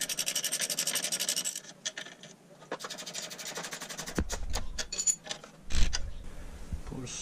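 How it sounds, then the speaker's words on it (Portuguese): Stabilizer link being tightened on a Peugeot Citroen C4 Pallas suspension: steady ratcheting rub with creaks and short metallic clicks near the end, close and fairly quiet, no talk. "Apertar a bieleta agora."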